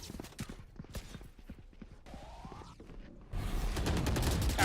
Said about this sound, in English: they can hear all the footsteps thundering around the corner